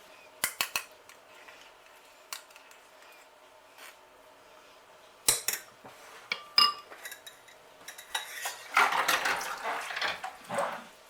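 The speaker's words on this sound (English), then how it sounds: "we're going to sieve those 4 tablespoons of jam into the water" Warm, runny apricot jam is pushed through a metal sieve into water in a home kitchen, giving scattered scraping, tapping and clinking of utensil against mesh and bowl, with a wetter stirring patch near the end.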